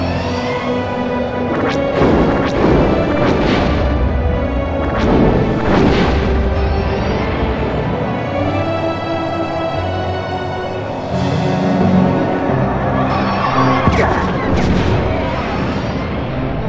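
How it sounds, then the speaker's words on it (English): Cluster Seeker missiles launch and burst in Star Wars: Rogue Squadron 3D, a dense run of loud blasts and crashing impacts over a steady game soundtrack. "Cluster Seeker missiles."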